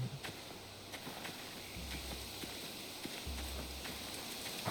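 Horse hooves in the video game The Walking Dead: The Final Season clip-clop at a steady walking pace over a soft background hiss, with faint low tones drifting underneath.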